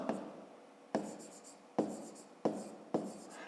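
A pen scratches across paper in a notebook while a math exercise is written out by hand, with about five short, close bursts of strokes at an even pace.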